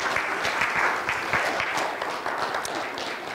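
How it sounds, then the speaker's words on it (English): An audience at a motivational service claps steadily to welcome a speaker, a dense, even wash of applause holding at moderate volume throughout, with no voices on top. "So please give a round of applause."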